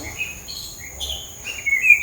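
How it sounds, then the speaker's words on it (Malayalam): Several birds chirp and tweet in short high calls, fairly close, over a quiet low hum. "കിളികളുടെ ശബ്ദങ്ങൾ"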